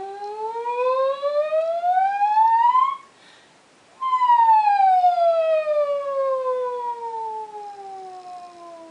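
A singer imitates a siren with her voice, a smooth rising glide that climbs steadily, a pause of about a second, then a long smooth falling glide, clear and close with no other sound.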